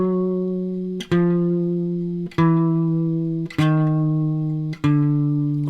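Four strummed guitar chords ring out one after another, each stepping down slightly in pitch, evenly spaced and clear.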